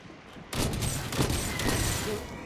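Sustained automatic gunfire in the video game Synced, a loud continuous barrage beginning abruptly and rattling on without pause, with faint voices underneath.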